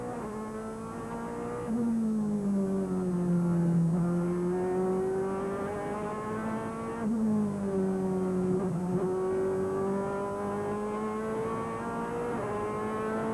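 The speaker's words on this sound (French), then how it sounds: "on a aperçu également le retour en piste de l'autre Audi de Martin Tomczyk" An Audi DTM race car at the Nürburgring in 2001 screams past with a strong, steady engine note, rising and falling through gear changes as it accelerates, loud and close throughout with no talk.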